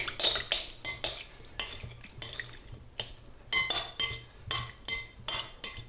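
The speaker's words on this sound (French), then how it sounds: "On peut commencer déjà à mélanger." Shrimp, mango and orange-juice mixture being stirred in a bowl with a utensil for small preserving jars: a dozen or so close, rhythmic scraping and clinking strokes with short pauses between them.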